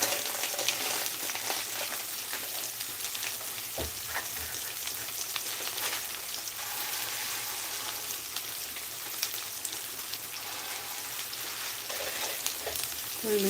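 Moong dal frying with ridge gourd in a pan gives a steady, close sizzle with faint crackles and an occasional stir, continuing alone throughout.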